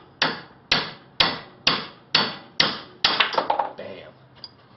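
A hammer taps a socket set against a Datsun differential side gear held in a vise: six sharp, evenly spaced metallic strikes, then a quicker cluster of lighter taps that trail off, close and loud.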